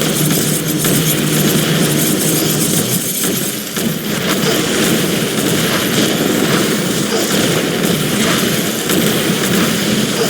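Loud, constant roar of assault helicopter engines and rotors in a video game, dense and unbroken, with a faint rhythmic chop running underneath throughout.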